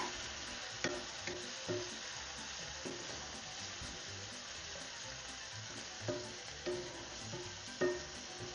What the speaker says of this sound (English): We're going to cook that off till it's completely dry.